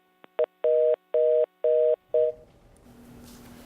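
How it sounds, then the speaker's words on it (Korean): A telephone line tone after a call disconnects: a short blip, then four evenly spaced steady beeps with gaps between them, followed by low line hiss and a faint lower hum, close and clear with no talking. "지금 전화 연결이 끊겼는데요"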